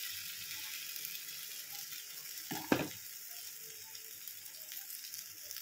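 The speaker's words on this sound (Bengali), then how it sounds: "তেলটা গরম হওয়ার পর তারপরে ওই মিক্সটা এর মধ্যে দিয়ে দেবো" Egg batter poured into hot oil in a frying pan gives a brief, fairly loud burst of sizzling and spattering about midway, settling into a faint steady crackle of frying that continues alone.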